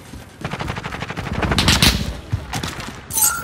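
Rapid bursts of automatic gunfire in a first-person shooter match featuring an MP7 and a chopper gunner, dense repeated shots rattling loudly for several seconds with short pauses and no talking.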